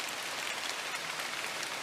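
Rain falling in a dark tropical forest at night, a steady even hiss of drops on leaves, moderately loud and unbroken, with no one talking.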